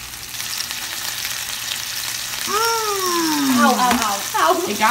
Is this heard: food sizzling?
yes